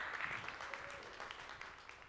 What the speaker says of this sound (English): let's go ahead and start with another round of applause for Jessica.